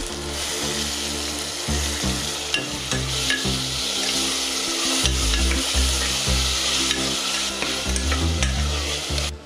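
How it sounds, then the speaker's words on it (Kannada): Chopped tomato hits a hot tempering of cumin and coriander for mung bean sprouts pulao. A loud, continuous sizzle and fry fills the pan, broken by repeated scraping strokes of a spoon or spatula. "ಈಗ ಟೊಮೆಟೊ ಹಾಕ್ತಾಯಿನಿ."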